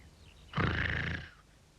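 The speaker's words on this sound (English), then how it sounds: "The tramp, fast asleep, snored." A single loud, drawn-out snore from a sleeping tramp in a 1974 Mr. Men cartoon, a rough roaring growl that swells suddenly, holds for about half a second and fades, with no voices over it.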